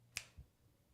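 A single sharp, faint snap-like clap rings out in a quiet room to trigger clap-activated lights, followed by a soft low thump.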